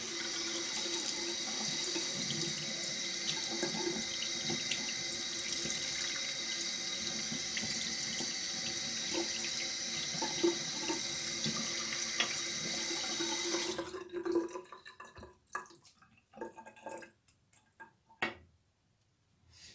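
Tap water runs steadily into a sink to soak a shaving brush, a loud continuous hiss for about fourteen seconds before it shuts off, leaving faint scattered clicks and handling sounds.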